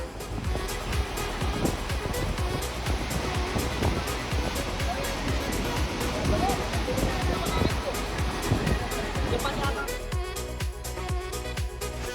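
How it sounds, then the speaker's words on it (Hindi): The fast-flowing Saraswati river near Bhim Pul rushes loudly and continuously, a dense roar of turbulent water that eases near the end, with a person talking over it. "ये पीछे मेरा भीमपुल और पानी का देख लो बहाव कितना तेज़ है, आप सोच भी नहीं सकते।"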